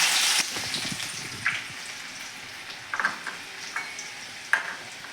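Asafoetida, cumin, chopped garlic and green chillies hit hot oil with a loud hiss that settles into a steady, crackling sizzle, punctuated by a few sharp pops and spatters.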